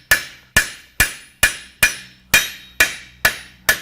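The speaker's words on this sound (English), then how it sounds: "you can just turn around the hammer and make it nice and smooth" A blacksmith's hammer smooths a forged steel spread, striking nine evenly spaced, ringing blows, each one loud and close with a short decaying tail.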